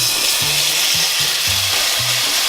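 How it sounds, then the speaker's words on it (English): Bacon sizzles and fries steadily in a pan with a constant hiss, with low clunks and scrapes of stirring over it, close and alone, no voices. "While your bacon is rendering"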